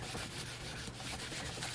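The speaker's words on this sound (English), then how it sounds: "Clean this part off real quick." Gesso and Gelato paint are wiped off a crafting surface, making a continuous close rubbing and scrubbing sound with no pauses.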